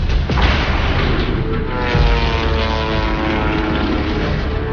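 A World War I era propeller airplane, the unpiloted Kettering Bug drone of 1917, drones loudly and steadily as its engine roars throughout.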